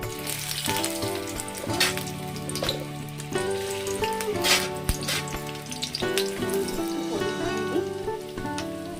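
Brinjal frying in hot oil in a kadai, a steady close sizzle with crackling bursts and occasional scraping of a spatula against the pan, with no talk over it.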